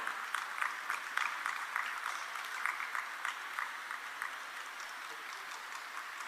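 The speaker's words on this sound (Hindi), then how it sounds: "तालियों से स्वागत करेंगे श्री अर्जित महाजन जी का।" Audience applause greets an award recipient at a felicitation ceremony: a steady, moderately loud wash of many hands clapping, continuous and even throughout with no talk over it.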